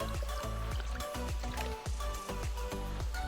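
Cold mountain water flows and splashes steadily nearby in a Manipur village, a continuous burbling stream with rhythmic pulsing gurgles.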